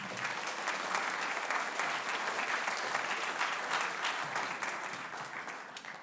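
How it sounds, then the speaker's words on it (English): Sustained audience applause fills a spring band concert hall, dense steady clapping from many hands holding strong for several seconds before easing slightly at the end, with no voices over it. "please give Landon a round of applause"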